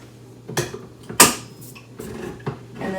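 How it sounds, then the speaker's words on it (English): Cans of diced tomatoes and green chilies being opened in a home kitchen, a few distinct metallic clicks, pops and scraping clatters at close range in a quiet room. "So I'm going to get these cans opened"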